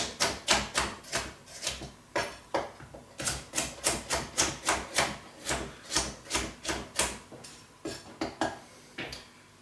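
Steady knife chops through bell pepper on a cutting board, cutting it coarsely for a vegetable stir-fry; about two dozen sharp, fairly even thuds in quick rhythm with a few short pauses, close and alone.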